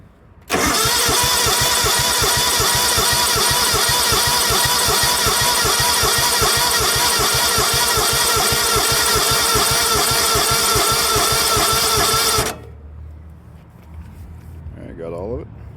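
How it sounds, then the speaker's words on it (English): The small engine of a John Deere LX277AWS riding mower cranks and then runs with a rapid, steady chugging for about twelve seconds before cutting off abruptly; a voice follows faintly. "I'm gonna turn over the engine and let it all pump out"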